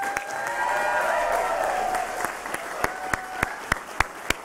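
Audience applause at a Nasdaq opening bell event builds from a broad wash of clapping, then thins into a handful of sharp, distinct claps toward the end.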